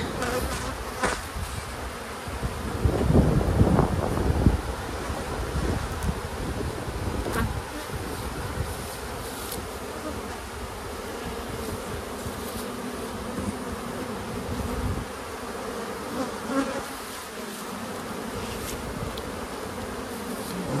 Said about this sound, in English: They boil right out of the bottom because all of a sudden you've put all the bees down in that bottom chamber